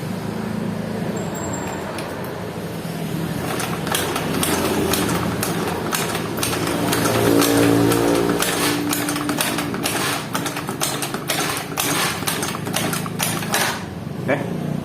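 Honda Scoopy FI scooter engine being kicked over with its spark plug removed: a rapid, loud mechanical clattering and whirring that repeats in bursts, the crank spinning freely without firing.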